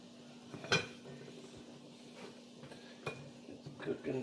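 A lid goes onto a pot of cooking rice with a single sharp metallic clink, then a few softer scrapes and taps, quiet and close, in a calm kitchen.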